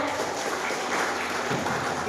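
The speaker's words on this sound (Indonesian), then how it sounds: "Bapak Ibu semuanya, tepuk tangan dong" Parents and guests at a school gathering clapping together, steady moderate applause that stays fairly faint and even for a couple of seconds.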